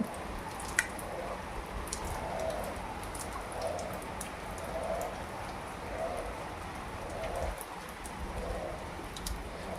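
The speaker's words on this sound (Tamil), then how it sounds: "மழை, நல்ல மழை." Heavy early-morning rain falling steadily outdoors, a dense continuous hiss and patter on surfaces with occasional louder drips, constant level throughout and no clear talk.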